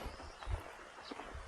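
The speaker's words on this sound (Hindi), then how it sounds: "पानी का शोर।" Broad, steady rushing noise of a mountain stream near a hill village in Uttarakhand fills the background, with a faint low thump, no voices.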